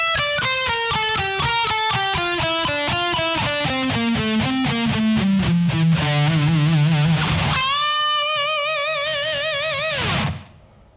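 Heavily distorted electric guitar runs a descending alternate-picked lick at slow tempo, settling on a held note, then a wide vibrato bend leading into the next phrase before stopping abruptly.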